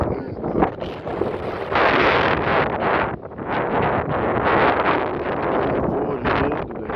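Strong gusting wind blowing outdoors on a clear day, a loud rushing roar buffeting the microphone in surging waves, with faint voices underneath.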